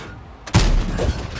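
Strv 103-0 tank cannon fire in a tank video game: a single heavy boom bursts in suddenly after a quiet moment, then a rumbling roll of echo and debris lingers under it.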